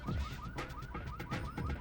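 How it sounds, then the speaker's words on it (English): A car alarm in the Hitman: Contracts video game wails in a rapid repeating whoop-whoop pattern, steady and somewhat distant, with no talking. "they send that alarm off"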